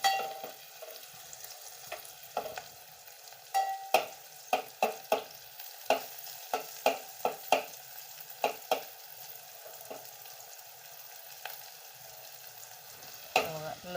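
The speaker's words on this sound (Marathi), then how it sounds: "आणि लगेच कारलं टाकायचं आणि परतून असं घ्यायचं." Bitter gourd pieces sautéing in a pan with onion and garlic, a steady low sizzle broken by repeated scraping and stirring strokes of a spatula against the pan, close up with no talking.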